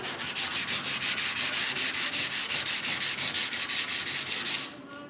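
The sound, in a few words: sanding body filler on 1968 grill shell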